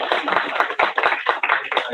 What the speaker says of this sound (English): Please give John a warm welcome and a round of applause.